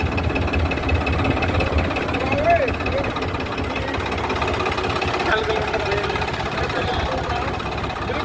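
A Swaraj 969 FE CRDi 4x4 tractor engine runs at a steady, rumbling idle-like drone from nearby, while people talk over it.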